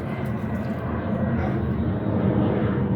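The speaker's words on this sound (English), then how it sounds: "we could hear the aeroplanes passing by as well because we're quite close to the airport" A low, steady rumbling roar of aircraft engines, growing slightly louder, fills the background as planes pass overhead near an airport in Trinidad.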